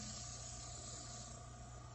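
An airbrush makeup sprayer runs at full power, giving a steady, continuous close hiss of compressed air with an even hum underneath and no pauses.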